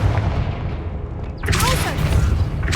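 Confringo blasting spell in a video game, a sudden burst and rumbling explosion striking midway over a low continuous background hum, with a voice speaking around it.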